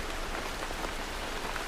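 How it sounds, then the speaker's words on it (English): Rain drumming steadily on the roof of an abandoned factory, a dense, even hiss of countless drops with no pauses or voices. "the hiss of the rain falling on the roof of an abandoned factory"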